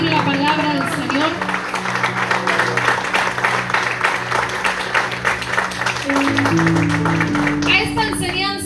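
A church congregation claps after a sermon reading, a dense, continuous round of applause mixed with crowd noise and a voice speaking over it, ending with music rising at the close.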